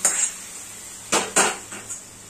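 Paneer tipped into a cooking pan, heard as several close metallic knocks and clatters of utensil against the pan, spaced irregularly, with no talk.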